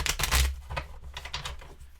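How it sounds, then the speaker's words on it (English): A deck of playing cards is riffle shuffled during a solo board game session: a rapid, close, papery flutter of clicking cards that rises and falls in short bursts. "And then we'll do one more Riffle Shuffle."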